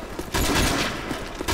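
Rapid automatic gunfire in Modern Warfare 3 on the Wii, a loud burst of dense, crackling shots that swells sharply partway through and holds for over a second.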